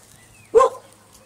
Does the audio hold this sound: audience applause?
no